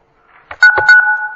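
A short string of electronic telephone tones sounds as the phone line of a town Board of Selectmen meeting is unmuted, loud and steady, with no talking over them.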